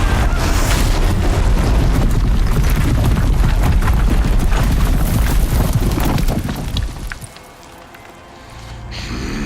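Dense, continuous barrage of gunfire and booming explosions in the Horizon Zero Dawn battle against Hades, loud and unbroken for several seconds before thinning into a lower rumble near the end.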